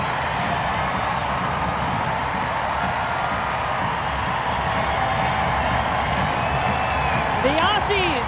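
A large stadium crowd at Providence Park roars and cheers steadily after a women's soccer goal, a dense continuous wash of noise with faint whistles near the end.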